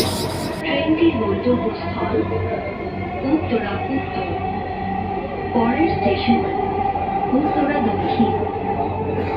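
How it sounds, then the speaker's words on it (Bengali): A Dhaka metro rail train runs toward Uttara North, with a steady loud rumble of wheels and car noise throughout the interior ride and faint tonal squeals riding on top, while people talk beneath it. "This train is bound for Uttara North."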